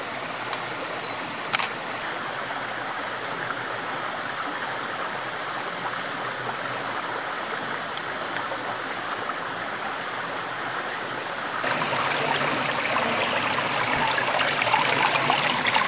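A river in Cyprus, home to the semi-terrestrial freshwater crab Potamon potamios, flows with a steady broadband rushing that swells louder and nearer in the final few seconds, with no voices.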